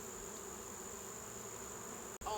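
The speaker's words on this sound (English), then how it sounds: "Lots of bees." Bees buzz in a continuous, dense drone around an open beehive during a hive inspection, steady and close throughout, ending with a brief bump of handling noise.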